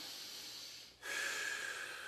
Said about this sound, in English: And then in between your rest is going to be the 5, 7, 9 recovery breathing.